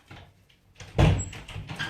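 A house door opened to let a cat in: a soft bump and scraping slide, then a louder thud as it swings, followed by lighter rattles, close by and with no talking.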